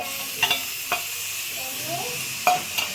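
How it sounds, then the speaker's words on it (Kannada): Tomatoes frying in a pan for an egg palya, with a soft steady sizzle and a few sharp scraping clicks of stirring spaced through a quiet stretch. "ಈಗ ಇಲ್ಲಿ 2 ಟೊಮೆಟೊನ ಹಚ್ಚಿಟ್ಕೊಂಡಿರೋ ಟೊಮೆಟೊನ ಆ್ಯಡ್ ಮಾಡ್ತಾ ಇದ್ದೀನಿ"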